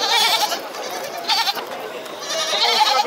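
Several young goats bleat in overlapping bursts, fairly close and loud, with crowd murmur and market noise underneath at the Tabira animal fair in Brazil.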